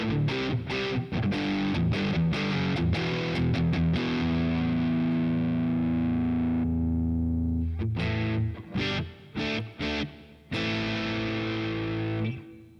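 Electric guitar through a Boss Katana MK-II amp set to hall reverb: distorted chords and sustained notes ring out with a lingering wash between stops, plus a few short choppy strums near the end, with no talking.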